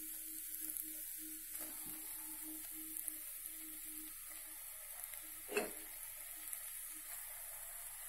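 Mutton goes into a pan with coriander and mint and sizzles quietly in a faint, steady hiss, with a brief scrape of stirring partway through.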